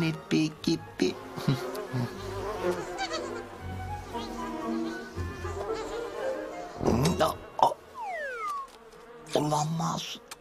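Buzzing cartoon bees drone through a busy mix of clattering and bleating noises, with sharp knocks and a few rising whistles near the end, in a Turkish dub of The Tigger Movie.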